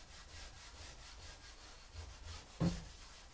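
Soft pastel rubbed by hand into paper to lay in a backdrop of long, tall grass behind a hare drawing: a faint, steady rhythmic scuffing with one sharper brush stroke near the end, no talk.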